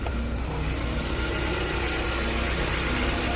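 Idling engine of a 2014 Wuling Rongguang double-row van with about 90,000 km, a steady low hum running continuously and close, with no talk over it.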